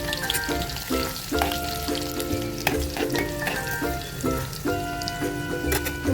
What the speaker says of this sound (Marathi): आता मी ह्याच्यामध्ये थोडासा जिरा टाकते